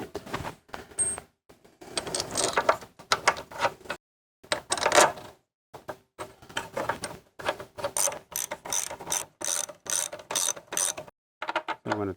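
A wrench ratchets close up as a sportbike's front axle is tightened, with bursts of rapid clicking pawl sounds separated by short pauses. The bursts come in an uneven rhythm, and there is no talk.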